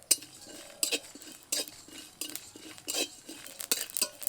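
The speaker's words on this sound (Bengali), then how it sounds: "মশলাগুলো শুকনো কড়াইতে ভেজে নেব" Whole cumin, cardamom, cinnamon and dried chillies are dry-roasted in a dry wok. A metal spatula scrapes and clinks against the pan in irregular bursts, close and sharp, with a faint rustle from the spices.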